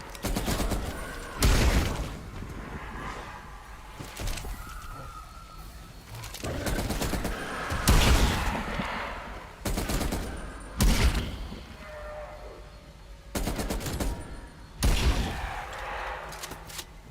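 An M60 machine gun fires in the video game Cold War Zombies in repeated loud, sustained bursts every couple of seconds, with a busy game soundscape between the volleys.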